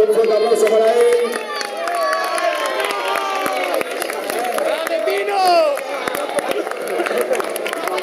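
A crowd cheers and claps for a triathlete reaching the finish of the San Silvestre de la Pola New Year's Eve race, steady lively noise with shouts and whistles while an announcer talks over it.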